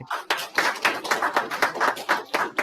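Clapping at a school principals' training session: distinct, evenly spaced hand claps, about nine of them at a steady rhythm, close and moderately loud.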